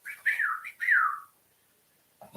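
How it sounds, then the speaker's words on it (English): A person whistles two short, sliding, bird-like phrases close by, then there is a pause of silence and a faint sound at the end. "Whistles inappropriately."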